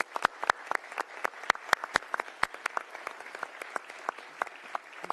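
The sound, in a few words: audience applause for hearing witnesses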